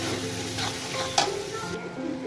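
Spices and prawns sautéing in a pan with Kashmiri chilli powder, turmeric and salt: loud continuous sizzle near at hand, with a few stirring scrapes and one sharp knock of the spoon.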